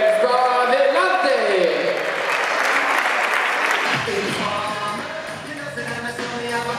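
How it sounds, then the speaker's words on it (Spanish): A festival crowd applauds the Street Dancers troupe, a loud, sustained wash of clapping with shouts mixed in that carries for several seconds before easing slightly, with a voice briefly audible near the end. "Un aplauso bien fuerte para Street Dancers."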